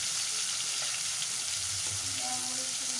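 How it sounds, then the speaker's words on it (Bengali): Rohu fish pieces frying in oil in a pan, a loud continuous sizzle and crackle close up with faint stirring sounds and no voices. "একটু কিন্তু কড়া করে ভাজতে হবে"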